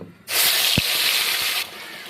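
Ginger, onion, garlic and green chilli paste hits hot mustard oil with a sudden loud hiss that holds steady for over a second, then drops to a softer sizzle.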